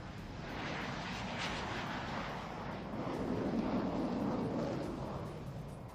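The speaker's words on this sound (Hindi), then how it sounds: "The first three set, ladies and gentlemen, taking off right in front of you." Surya Kiran formation jets taking off at an air show, a broad, sustained jet roar that swells slightly as the aircraft pass, heard from a distance with no talk over it.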